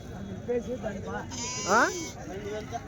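Rams bleat loudly several times at a weekly sheep and goat market in Galiveedu, with a strong, wavering cry near the middle rising over steady crowd talk and market bustle.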